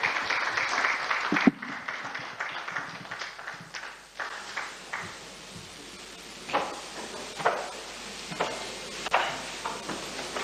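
Scattered applause from a conference audience at a ministerial World Press Freedom Day event, starting as a brief burst and thinning into sparse, irregular individual claps and knocks with gaps between.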